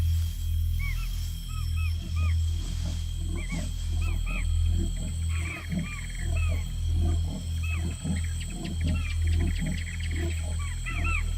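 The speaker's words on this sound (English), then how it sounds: "leopards can roar. The fact that this male is calling shows he's not at all interested in hunting deer." A male leopard roars at night in Yala, giving a series of deep rasping calls in a rhythmic sawing pattern over a constant low hum and chirping insects.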